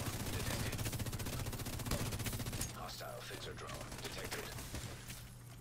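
Rapid automatic gunfire rattles loudly in a shooter video game, a dense continuous burst that stops partway through, leaving a softer mechanical clatter of reloading and game effects.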